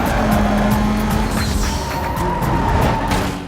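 Racing car in the video game Need for Speed: Most Wanted, engine roaring loudly with tires squealing through a near-end-of-race corner.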